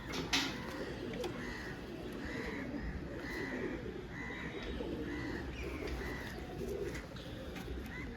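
Soft pigeon coos repeat at a steady pace at a pigeon market, against a constant background hum, with a faint chirp or two mixed in.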